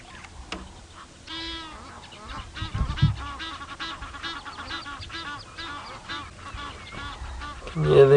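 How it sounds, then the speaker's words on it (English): Egyptian geese honking on a sunrise safari drive, a run of harsh, repeated calls at moderate distance over a low vehicle hum, with a few spoken words in between. "Yeah, the Egyptian geese calling too."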